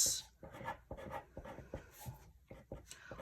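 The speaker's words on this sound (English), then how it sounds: "The next thing that I'm going to write out" A pen writes out a list of unnecessary expenses on paper, its scratchy strokes coming in short, uneven bursts close to the microphone, quiet and alone.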